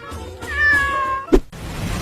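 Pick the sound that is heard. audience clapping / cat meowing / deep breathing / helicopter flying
cat meowing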